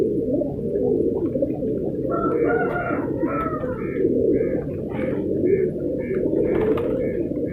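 Pigeons at a pigeon breeding farm cooing in soft repeated bursts under a steady low background rumble, fairly close, with someone speaking at times.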